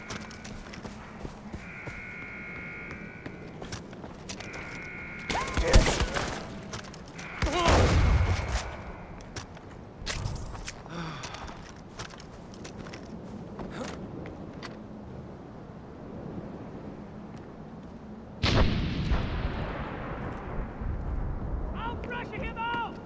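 Gunfire in the Far Cry 4 shooter game, scattered shots and loud blasts around a sniper firing on the player, mixed with game effects while voices talk over it.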